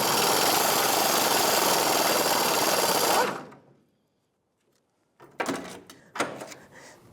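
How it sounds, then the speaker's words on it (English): An air impact gun with a 15mm socket hammers at rotted nuts and bolts on a 1992-1996 Ford F-150 fuel tank, a loud, continuous rattling roar for about three seconds, then silence and two shorter, close bursts. "I'm going to be using a 13mm wrench or 1/2 inch wrench and a 15mm socket with my air gun, trying to get these to break free."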